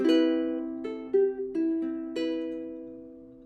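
Ukulele picked fingerstyle through the chords of a song in a beginner arrangement: several gently plucked chord changes ring out alone, close and clear, each decaying softly.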